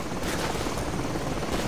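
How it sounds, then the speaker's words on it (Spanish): A dense, continuous rumble of helicopter rotors in Call of Duty 4: Modern Warfare, loud and broad, filling the whole moment without any clear voices. "Helicópteros acercándose a gran velocidad"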